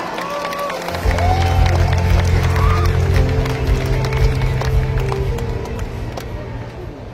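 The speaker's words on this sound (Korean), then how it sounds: "여러분 힘찬 박수로 맞이해 주시기 바랍니다" Crowd at a Democratic Party national convention applauding to welcome a speaker to the stage, a broad roar of clapping and cheering rising after a second, with a low hum and occasional voices underneath.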